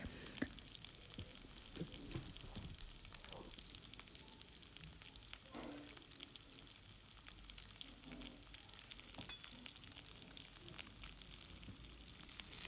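Onions frying in a pan for a Nepali sukuti barela curry, with a faint, continuous crackling sizzle and occasional soft stirring knocks, heard from close by with no voices.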